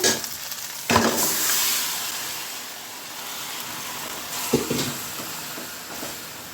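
Chopped onions, whole spices and meat fry in mustard oil in a pot, giving a continuous close sizzle with a few sharp stirring clatters.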